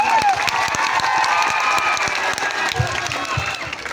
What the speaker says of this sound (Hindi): एक और जोरदार तालियों से दादा का अभिवादन करते हैं